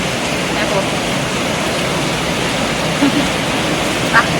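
Steady broadband rain hiss falls continuously through the evening in a rural village setting, loud and even throughout, with a couple of faint brief knocks near the end.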